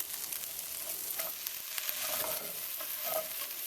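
A grilled beef and cheese sandwich sizzles steadily in a hot pan as it is flipped, with a continuous crackling fry and a few scraping clicks of the spatula, close and fairly loud with no talking.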